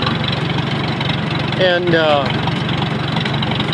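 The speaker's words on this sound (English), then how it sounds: "Let it idle here for 5-10 minutes while we visit." A Farmall M tractor engine idles with a steady low rhythmic chugging, while a person speaks briefly over it partway through.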